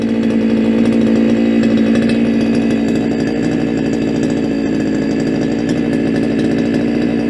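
Two identical-looking brush cutters, started for the first time this year, run with a steady loud two-stroke engine drone that holds without break, close by and alone.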